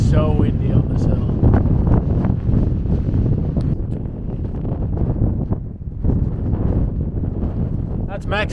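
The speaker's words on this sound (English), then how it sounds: "It is so windy on this hill." Strong wind on a hilltop in Texas buffets the microphone with loud, continuous low rumbling and gusts, while people talk over it.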